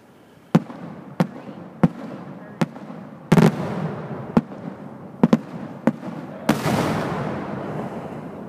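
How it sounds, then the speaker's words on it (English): A 7-inch multibreak cylinder firework shell bursting in a series of sharp reports, about eight cracks spaced roughly half a second to a second apart, with two heavier booms followed by crackling fallout. "7-inch multi-break, big boy bottom shot"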